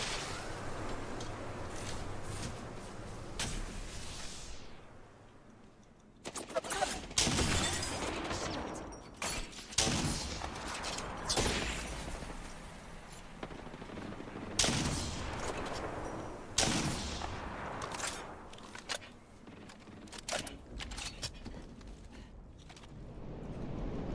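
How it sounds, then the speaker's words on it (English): Gunfire in a battle royale video game: repeated bursts of rapid shots and fusillades, loud and close, with short pauses between volleys and some mechanical clicks. "Being shot at. Opening fire."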